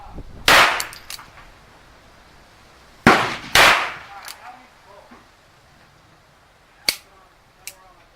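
A Ruger New Bearcat .22 LR revolver fired outdoors: five sharp cracks at uneven intervals, two close together, the last two quieter, with no talk.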